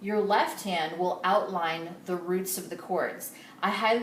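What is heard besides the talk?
No everyday noises stand out.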